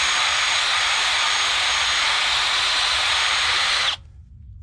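A metal ride plate for a J.S.B. Interceptor is cleaned with a power tool before welding, giving a loud, steady, high whine that cuts off abruptly near the end, leaving near silence.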